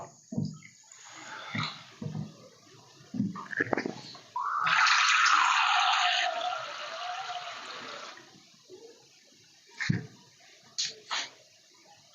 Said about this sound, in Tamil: சர்க்கரைக்கு வந்து ரெண்டு கப்பு தண்ணி ஊற்றுறோம்